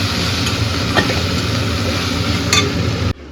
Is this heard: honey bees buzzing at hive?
no